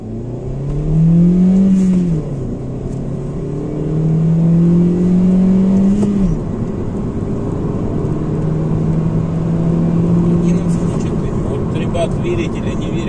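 A Honda Civic 9 engine accelerates while driving on a cold, not fully warmed-up run with a zero-resistance air filter, its note rising and settling through several gear pulls, loud and steady inside the cabin.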